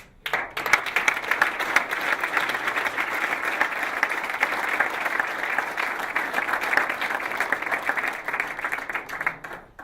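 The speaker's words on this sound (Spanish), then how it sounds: "Primero un aplauso" An audience at a talk on club instruction systems applauds the speaker, giving a sustained, even round of many hands clapping at moderate loudness that runs unbroken for about ten seconds before trailing off, with no speech over it.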